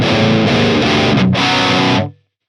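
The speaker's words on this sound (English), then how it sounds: "let's go back to some distortion. Let's check the high gain channel." A loud, heavily distorted electric guitar chugs through a short riff with a crunchy high-gain tone from an amp-simulator plugin's high-gain channel, then cuts off abruptly into silence.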